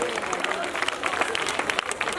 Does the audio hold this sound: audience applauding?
yes